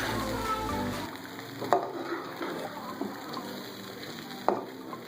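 Black pepper goes into a sizzling Shinwari mutton karahi after the burner is switched off, giving a quiet frying crackle with a few sharp clinks and the low stove rumble cutting out early on.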